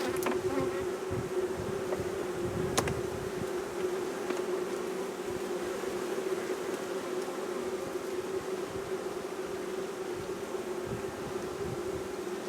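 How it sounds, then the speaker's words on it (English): Honey bees in a hive box hum in a steady, dense drone, close and constant throughout with a few faint knocks and rustles, no talking. "The bee's calmer because they've got a queen"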